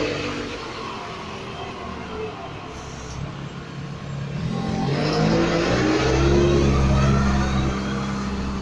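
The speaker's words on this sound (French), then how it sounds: "Regardez, déjà le premier tracteur qui arrive." A tractor engine grows louder as it approaches and passes nearby on a street, its steady mid-pitched drone building over outdoor background noise.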